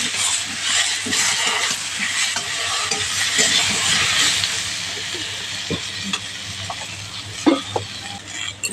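Chopped tomato sizzles steadily in a pan with spiced potatoes for a bean and potato curry, a constant frying hiss with intermittent spoon scrapes and stirring knocks, close and fairly loud throughout.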